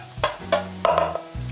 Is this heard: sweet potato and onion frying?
yes